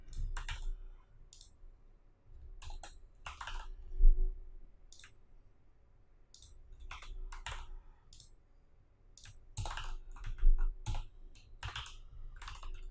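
Bursts of typing on a computer keyboard come in clusters of quick clicks separated by pauses, close and fairly quiet, with no talking.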